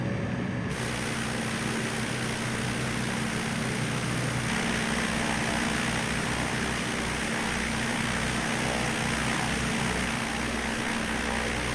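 Propeller airplane taking off in Microsoft Flight Simulator over Papua New Guinea, a steady loud engine drone with broadband roar that shifts slightly in pitch partway through, continuous with no talk.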